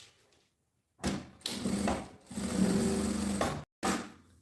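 A sewing machine stitches fabric for a bag lining near a zipper channel, running in short bursts, a close whirring motor hum with quick clatter, stopping briefly between runs and starting again.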